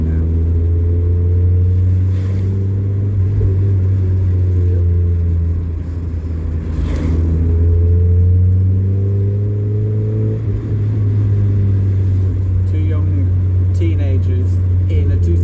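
Two-seater Mazda MX-5 convertible sports car driving on twisty national-speed-limit back roads, its engine a loud, steady low drone that swells and eases under continuous wind rumble, with no talk over it.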